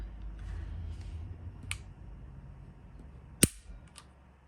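A sharp, dry trigger click from an unloaded PDP 5-inch compact pistol sounds once, close and distinct, over a quiet room hum, with a couple of fainter mechanical ticks nearby.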